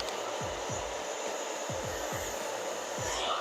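Handheld hair dryer blowing steadily on a woman's hair during a styling session, a continuous loud whoosh throughout with a few low thumps as the nozzle moves.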